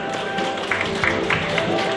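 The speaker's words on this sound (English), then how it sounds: "let's give a round of applause for sir" Wedding reception guests give a round of applause, with steady, dense clapping from a crowd over a background hum, some voices mixed in beneath the claps.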